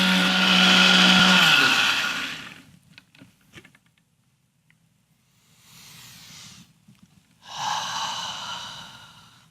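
A blender runs loud and steady for about two seconds blending meatloaf sauce ingredients, then cuts out; quieter rustling and small knocks follow before the motor whirs again near the end.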